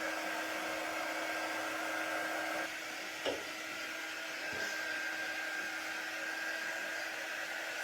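A hair dryer blows steadily at close range to dry paint on a vintage home decor piece, a constant whirring hum with a brief faint knock partway through.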